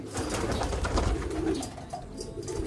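Racing pigeons cooing close by, low throaty calls repeating over a constant background hum and faint rustling.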